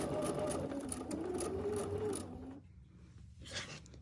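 A Bernina sewing machine runs steadily as it stitches fabric squares together, a close, continuous whirring hum for about two and a half seconds before stopping, followed by faint handling sounds.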